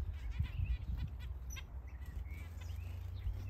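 Red-throated parrot finches in a large outdoor summer aviary give faint, scattered high chirps and short calls over a low background rumble.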